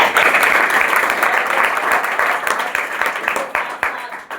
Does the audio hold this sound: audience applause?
yes